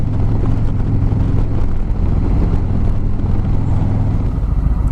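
A Harley-Davidson Street Glide with a Milwaukee-Eight 107 engine idles steadily at 850 RPM, a loud, constant low rumble close by with some wind noise and no talk.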